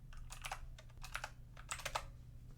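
Quick bursts of typing on a computer keyboard, clustered keystrokes in short runs over a low steady hum, close and moderately quiet with no voices.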